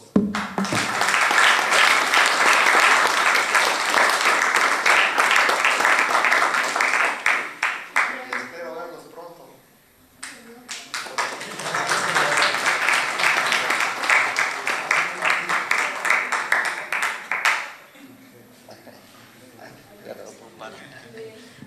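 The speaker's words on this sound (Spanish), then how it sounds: "les voy a pedir por favor que nos demos un aplauso todos." A conference audience applauds at the close of a technology institute's design and engineering talk, with a long, loud burst of clapping, a short lull, then a second sustained round that fades into quieter room noise.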